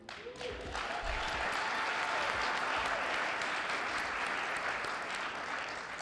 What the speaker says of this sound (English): Let's clap it up for all the honorees.